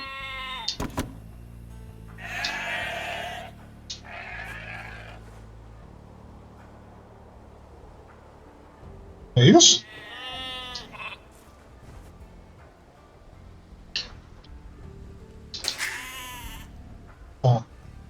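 Several short sheep bleats sound at intervals amid sparse game effects and chimes in Age of Empires II: Definitive Edition on Xbox Series S, with a brief spoken line partway through.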